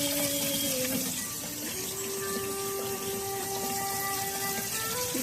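Running tap water pours steadily over an avocado being washed at a sink, a continuous loud splashing rush with faint tonal whine from the plumbing.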